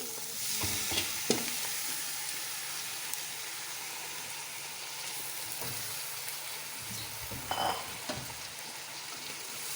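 Soaked rice stirred into onions and dry fruits frying in a pot, a steady sizzle with scraping stirs and a few soft knocks of the spoon.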